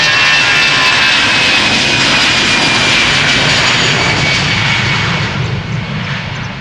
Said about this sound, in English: flight 605 to Dublin, an A320.